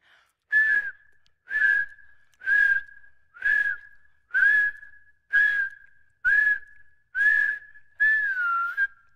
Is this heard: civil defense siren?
no